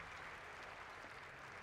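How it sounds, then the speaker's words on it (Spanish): A large audience at the Sony E3 2018 press conference applauds after the Ghost of Tsushima showing, a steady, dense wash of clapping that holds at full strength from start to finish with no voices standing out. "Normal que la gente esté aplaudiendo."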